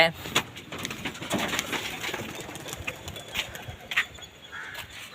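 Homing pigeons around their cage in the open coo and flutter, with soft calls and wing claps scattered over background noise while someone talks nearby.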